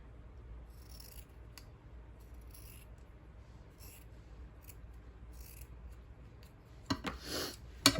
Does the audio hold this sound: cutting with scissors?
yes